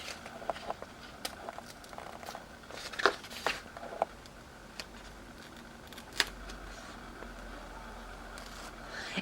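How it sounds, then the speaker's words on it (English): Printable vinyl sticker slowly peeled from its backing, faint close crackles and soft ticks scattered through a quiet room with a few sharper snaps. "And now I'm just going to peel"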